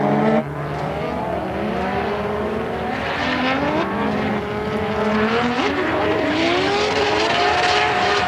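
Drift cars scream through a tandem drift battle at Manfeild in the D1NZ championship, engines revving hard and continuously with rising and falling pitch and a tire-squeal edge, loud and close throughout with no talking.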